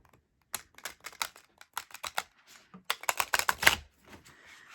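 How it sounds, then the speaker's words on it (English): A stiff new tarot card deck being shuffled by hand, giving bursts of crisp, rapid riffling and snapping card clicks close up, in several short runs with a louder flurry near the end. "Their other complaint was that this deck is too difficult to shuffle."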